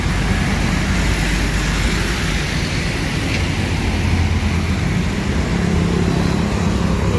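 Dense, steady roar of heavy vehicle traffic on a crowded city road, heard from inside a Sempati Star bus, with constant low engine rumble and road noise and no clear pauses.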